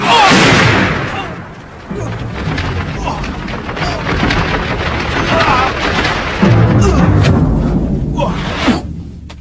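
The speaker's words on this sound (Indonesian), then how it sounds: "dua kekuatan itu beradu dan mengeluarkan bunyi ledakan yang sangat keras" Two opposing powers collide in a loud, booming explosion effect that bursts at the start, then rolls into a rumbling, crackling tail with further swells and a sharp burst near the end, with some voice mixed in.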